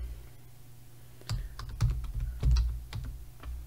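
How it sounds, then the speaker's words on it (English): Close, crisp keystrokes on a computer keyboard, a quiet start followed by an irregular run of clicky taps and clacks entering text into a search field. "then we're going to type in PowerFlex"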